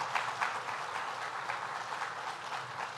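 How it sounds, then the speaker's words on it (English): An audience at a state government event breaks into steady applause, a dense wash of clapping that holds evenly throughout, fairly distant and moderate in level. "let's give a round of applause here"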